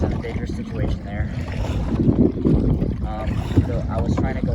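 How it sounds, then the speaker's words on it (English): Strong wind gusting over a lake while kayaking, heavy low buffeting rumble against the microphone mixed with water sloshing around the boat, continuous and close throughout. "the wind kind of picked up, and it kind of forced me to go to this side"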